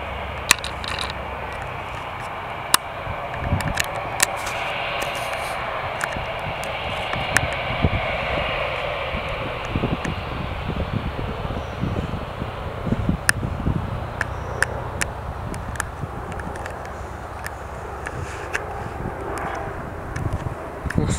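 A Saudia Boeing 787 Dreamliner departing Birmingham Airport, a steady broad jet roar with wind buffeting that holds for the whole stretch, fairly distant and constant, with no talk over it.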